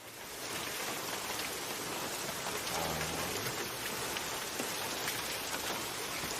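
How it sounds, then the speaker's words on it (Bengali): Steady rain falls continuously, a dense even hiss with no pauses or voices. "শুনতে পাচ্ছি, বৃষ্টি পড়ছে"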